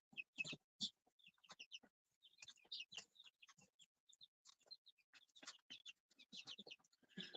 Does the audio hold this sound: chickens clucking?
yes